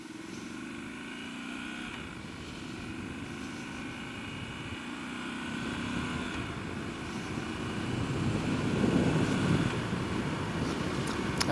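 A Triumph Scrambler 1200 motorcycle pulls away from a standing start, its engine note rising steadily and growing louder over several seconds, heard from a little distance with wind noise.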